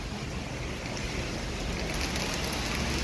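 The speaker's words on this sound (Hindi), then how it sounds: "बारिश तेज हो रही है ना।" Heavy rain pours down outdoors as a dense, steady hiss that fills the whole clip at a constant level, with no talking.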